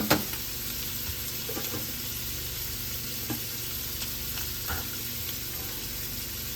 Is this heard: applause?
no